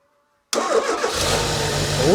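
After silence, a Citroen BX 4WD with fuel poured into its inlet abruptly cranks and catches, its engine rising to a rough, close running note that builds toward the end.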